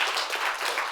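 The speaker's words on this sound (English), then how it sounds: "Let's give her another round of applause." A short burst of dense audience applause, many hands clapping steadily and evenly.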